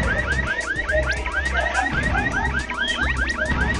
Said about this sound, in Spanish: Estas alarmas de las bombas con alarma me recuerdan a las alarmas de los carros